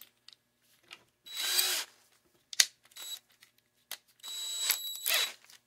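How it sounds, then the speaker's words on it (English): Electric DeWalt-style cordless drill running: two sustained high whirring bursts of about a second each, close and loud, separated by clicks and handling noises, with no talking. "Take your electric drill of choice. This one is basically a hyped up DeWalt."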